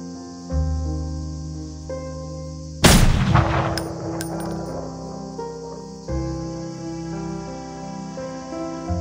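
Gunfire in the video game Reverse: 1999 erupts as a sudden loud burst over a steady musical score, with sharp reports and a decaying crash lasting a few seconds before the music carries on alone.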